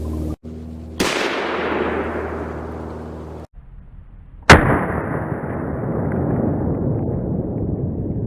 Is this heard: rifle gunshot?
yes